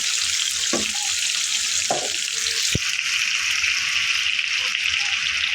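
Potatoes frying in a pan give a steady, close sizzle that runs the whole way through, broken by a few brief clinks and stirring knocks.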